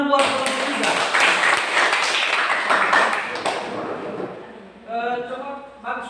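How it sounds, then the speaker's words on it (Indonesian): A classroom of students claps for presenting group 3: dense, loud applause for about four seconds that thins and fades, then a teacher's voice talks nearby. "Tepuk tangan dulu buat kelompok"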